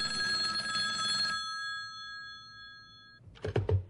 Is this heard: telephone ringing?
yes